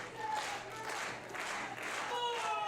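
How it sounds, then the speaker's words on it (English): A pro wrestling crowd cheers and claps in a steady, rolling wave of applause, with brief swells of cheering and a faint voice riding above the noise. "But this crowd now trying to rally behind Ray Rowe."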